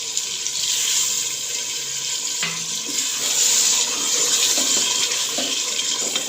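Water pours steadily into onion masala cooking in a pot, a continuous hissing splash with light sizzling and faint bubbling underneath, close and moderately loud, with no voices.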